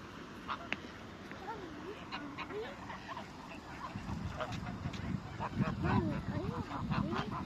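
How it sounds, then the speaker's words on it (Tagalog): A crowd of ducks keeps up repeated quacking and honking calls, close and overlapping, growing busier toward the end, with excited voices of people talking at times. "There's so many ducks, come!"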